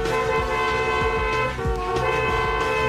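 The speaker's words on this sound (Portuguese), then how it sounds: "porque tem bucinaço Chevrolet na Transamérica" Car horn toots blend into a tonal Chevrolet radio jingle during a Brazilian football broadcast on Rádio Transamérica, with bright, sustained horn-like notes sounding loud and continuous throughout.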